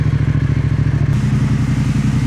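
A Yamaha XSR700 motorcycle engine runs loud and close with a rapid, even throbbing pulse, rising slightly in pitch as it is blipped partway through, with no talk.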